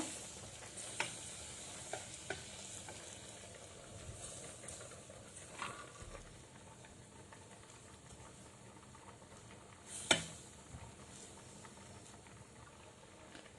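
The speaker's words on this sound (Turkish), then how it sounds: "Unumuzu kavuracağız güzelce." Two tablespoons of flour stirred and roasted in a pan over low heat for a béchamel sauce, a quiet steady sizzle and scrape with a few louder utensil knocks, no talking.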